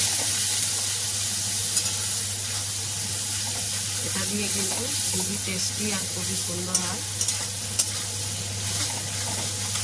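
Pumpkin fries in a pan seasoned with salt and turmeric, giving a steady soft sizzle and occasional stirring scrapes beneath a voice talking.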